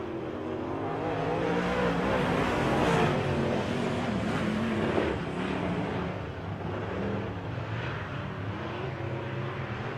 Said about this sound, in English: These cars are fast